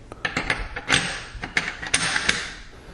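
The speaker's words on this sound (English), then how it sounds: "the bolt slide should drop right in." Metal parts of a Mossberg 500 shotgun clack and rattle as the bolt slide drops into place during a field strip, several close, sharp clicks over about three seconds with no talk.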